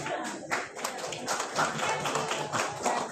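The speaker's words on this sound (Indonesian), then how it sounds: "Ada yang mau tepuk tangan dengan tepuk tangan begini sih?" Audience at a teachers' creativity seminar for kindergarten staff in Cilegon clapping together, a steady dense patter of many hands sustained for a few seconds with slight swells.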